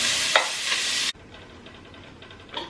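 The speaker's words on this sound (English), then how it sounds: "we're gonna just give this a nice stir around and cook this down a little bit" A pot of beef stew with onion sizzles loudly and is stirred. A strong frying hiss cuts off abruptly partway through, leaving quieter cooking crackle and light stirring noises near the end.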